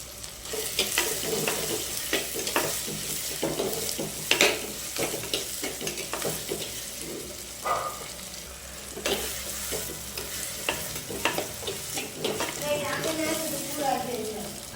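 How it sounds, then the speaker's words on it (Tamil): Ingredients for anchovy curry sauté in a clay pot, with a continuous sizzle broken by frequent scraping stirs and clanks of the spoon against the pot. A voice speaks now and then. "கொஞ்சம் உப்பு சேர்த்து நல்லா வதக்கலாம்."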